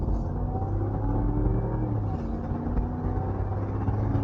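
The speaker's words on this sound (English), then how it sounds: "This Hemi e-torque motor paired with the 8-speed automatic transmission, this thing feels like dang near like it's got a, like it's the V10 truck or something." A Ram 1500 pickup with the Hemi eTorque engine and 8-speed automatic accelerates on a test drive, a steady loud engine rumble from inside the cab with no break.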